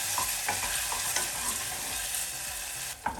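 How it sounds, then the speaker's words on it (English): A jalapeno and cheese filling mixture being given a quick stir, with a close, steady hiss and soft irregular knocks and scrapes of a spoon through the thick mixture, ending with a brief pause and one last tap. "So we're going to give the whole mixture a quick stir."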